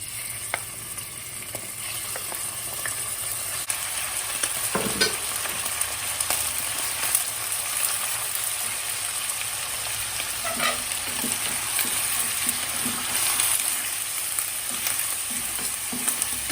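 Steady sunflower oil sizzling and crackling in a pot, continuous and fairly loud, with occasional small pops and scrapes, no voices.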